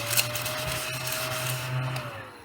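A small handheld vacuum cleaner whirs steadily at close range for a couple of seconds, picking up paper die-cut scraps, with a constant motor whine and faint rattling.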